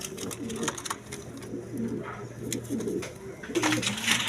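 Red Moshold pigeons coo in low, rolling calls from a farm loft, several overlapping coos repeating steadily with a busy background of other birds.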